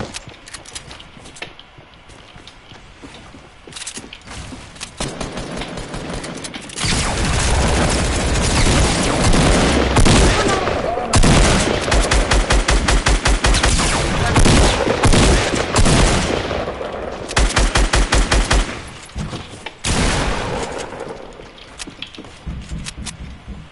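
Rapid bursts of gunfire in a Fortnite match, with loud clustered volleys and machine-gun-like rattles that come and go in dense stretches over about twenty seconds, with other game noise between them and a voice now and then.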